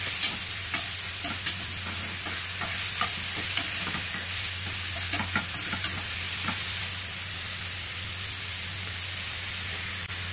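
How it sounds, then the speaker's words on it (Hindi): Beef sizzles steadily in an oiled pan with garlic while zucchini noodles are prepared, a continuous close frying hiss broken by light crackles and a few soft stirring scrapes, with no talking. "I absolutely love the sizzling sound of this"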